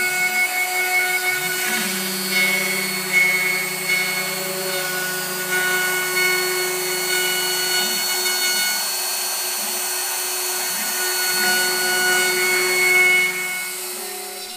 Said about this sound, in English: A fine finishing path was performed to smooth out the tool marks left by roughing in the contour.